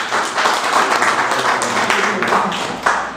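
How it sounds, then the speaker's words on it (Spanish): Audience applause at a tribute event in Madrid, a steady burst of many hands clapping together, loud and close, lasting a few seconds with no talk over it. "Un aplauso para él."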